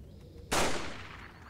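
A single loud gunshot in Resident Evil 4, aimed at an enemy's head: one sudden broadband blast with a long fading echo, close and alone.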